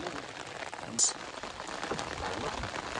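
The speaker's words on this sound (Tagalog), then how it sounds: "Ang lakas na ng ulan guys." Heavy rain pours down on a fishing trip in a dense, constant hiss, with one brief high-pitched squeak partway through.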